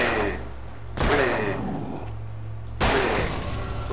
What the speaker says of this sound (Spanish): ¿cuántos disparos han sido requeridos para matar a este tío?